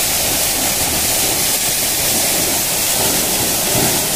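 Water spraying steadily over a truck during a wash, a loud continuous rushing hiss like heavy rain with no pauses.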